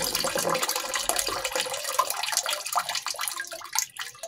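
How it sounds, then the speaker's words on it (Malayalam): Water rushes steadily into a fully automatic washing machine drum, a continuous splashing hiss that grows slightly more uneven toward the end. "ഇനി ഞാൻ മെഷീനിൽ വെള്ളം നിറഞ്ഞു"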